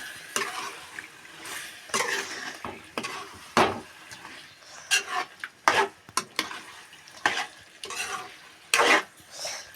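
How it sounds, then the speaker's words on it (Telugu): A spoon stirs pieces of food in a frying pan, giving irregular scraping strokes and metallic clinks at an uneven rhythm, close and fairly loud, with a soft sizzle underneath. "ఒకసారి లైట్గా తిప్పుకుందాము."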